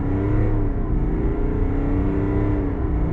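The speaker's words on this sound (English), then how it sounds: "I'm gonna get on the gas with the Duramax Diesel right here." A GMC truck's Duramax diesel with a 10-speed automatic is revved hard toward 5,000 RPM, giving a loud, close, sustained engine drone with no one talking.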